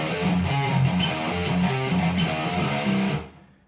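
Distorted electric guitar plays a riff, a fast chugging pattern with hammer-ons and pull-offs, loud and steady for about three seconds before fading out.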